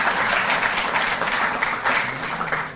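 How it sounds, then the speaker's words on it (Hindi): Audience applause at a Delhi government sports ceremony honouring Olympic athletes, a dense, steady clapping from many hands that fills the whole stretch at even loudness. "जोरदार तालियां बजें।"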